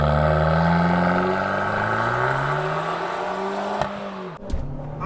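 A 2022 Abarth 595 Scorpioneoro accelerates hard through the gears, its engine note climbing steadily in a loud close drone before a sharp shift and an abrupt drop near the end.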